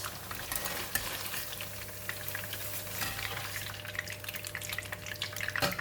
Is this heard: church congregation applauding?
no